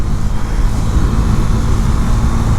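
2019 Husqvarna Svartpilen 401 motorcycle riding just after a downshift, a loud steady low engine drone blended with wind and road rumble, continuous with no talk.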